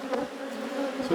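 Honey bees buzzing around a hive that has been without a queen for a while, a close steady drone with a few individual insects rising louder as they pass near.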